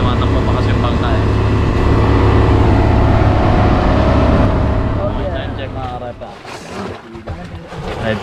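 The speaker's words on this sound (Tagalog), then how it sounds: "tumatakbo pa kasi yung bangka, eh" A motorboat engine rumbles steadily and loud, fading somewhat toward the end as wind and handling noise take over.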